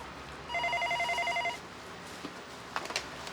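A telephone in a small gimbap shop rings with a rapid electronic trill lasting about a second, then goes quiet, followed by faint room noise and a few small knocks.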